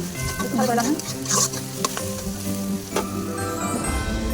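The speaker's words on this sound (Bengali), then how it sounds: "কড়াইতে সর্ষের তেল আর পেঁয়াজগুলো একসাথে দিয়ে দিলাম" Onions sizzle steadily in mustard oil in a kadhai while utensils stir and scrape, with occasional clinks over a constant low frying hiss.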